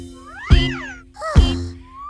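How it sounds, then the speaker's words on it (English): Two loud, close meows, one after the other, each rising then falling in pitch. "Oh, it's a cat. Meow. Meow."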